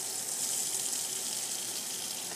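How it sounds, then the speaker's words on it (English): A kitchen tap runs steadily into a sink filling with soapy water for washing, a constant close gushing hiss with no pauses and no voices. "So we're going to turn the water on."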